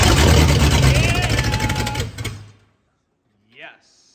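A 1965 Pontiac Catalina V8, sitting unused for over 20 years, cranks and fires into a loud, ragged run without exhaust for about two seconds before shutting off, followed by a brief faint voice.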